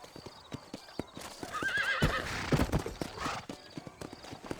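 Horses in the Red Dead Redemption video game trot with a steady clip-clop of hooves, joined by a loud neigh and whinny in the middle, with no talk over them.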